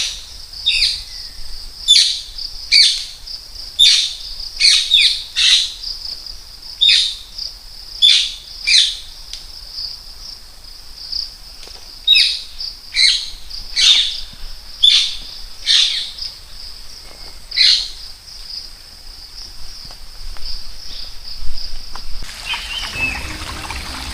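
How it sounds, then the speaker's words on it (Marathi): A bird repeats a bright, high chirping call in regular bursts, with quiet stretches between, in dense forest in Yavatmal, Vidarbha. Faint trickling water from a stream runs beneath, and the calls fade toward the end. "पक्ष्यांची किलबिल"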